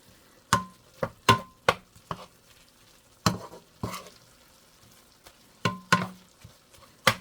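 A spoon stirs ground turkey taco meat frying in a pan, giving a string of sharp, close scrapes and clacks at an uneven pace over a faint sizzle, with no talking.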